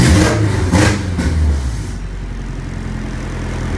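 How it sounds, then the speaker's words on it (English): Honda H22 stroker engine on nitrous gives a couple of loud, sharp revs at the start, then falls back to a steady, rumbling idle that runs to the end. "Show a little rev for y'all"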